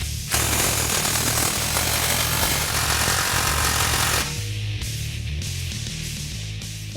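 A power tool tightens exhaust header bolts on a 2015-2017 Mustang GT during a long tube header install, a loud continuous rattling hammering burst that drops to a lower, steadier drone after a few seconds.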